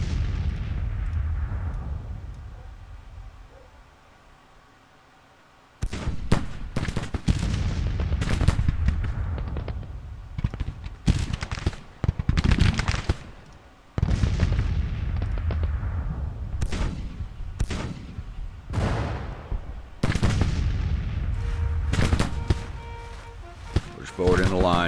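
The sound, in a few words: musket and artillery fire in Grand Tactician: The Civil War video game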